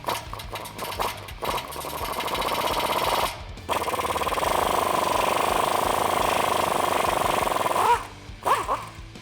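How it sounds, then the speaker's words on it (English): Loud, sustained rattling buzz of a power tool driving a 14mm socket to back out a rusty exhaust flange bolt on a Toyota Tacoma, running in long bursts with short pauses between. "we're going to use a 14mm socket on this bolt to slowly back it out."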